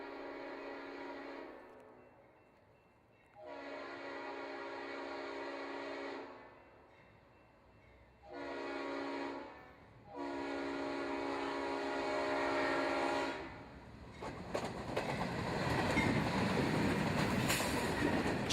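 An eastbound freight train locomotive sounds its RS5T air horn in several long, loud blasts with short gaps, followed by rumbling, clattering wheels as the train passes close by outdoors.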